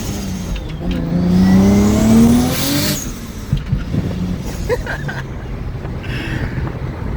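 A turbocharged Lexus IS300 engine revs up loudly with a rising whine, then settles into a rough, gusty rumble with wind buffeting the microphone.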